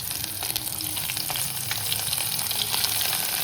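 Boiled stuffed bitter gourds dropped into hot oil with a cumin tempering, a loud, steady close sizzle and crackle throughout with no talk.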